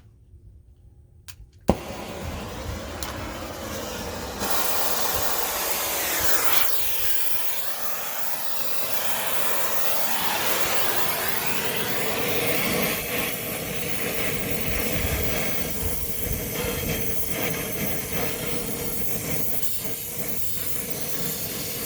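Big torch roaring steadily as it heats a seized exhaust manifold stud on a 2009 Dodge, a loud continuous broadband hiss that starts abruptly after a brief quiet moment and holds for about twenty seconds with no talking.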